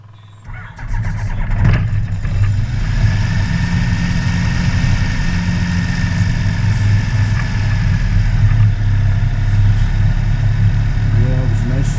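A BushCat light aircraft engine cranks and fires within the first second or two, then settles into a steady, loud, rumbling idle that holds for the rest of the clip with no voices.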